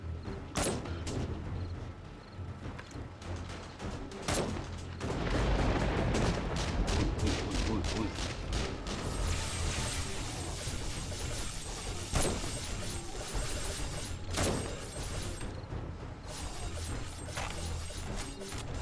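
Rapid bursts of gunfire crackle continuously with heavy booming explosions in 7 Days To Die Alpha 21, loud and dense, typical of a busy game battle.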